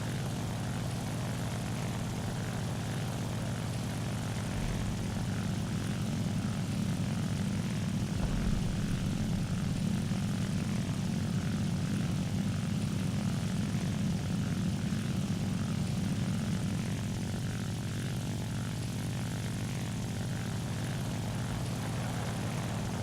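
Steady, loud droning of WWII fighter propeller engines in a flight combat video game, a continuous low roar that holds for the whole stretch with slight swells, no talking.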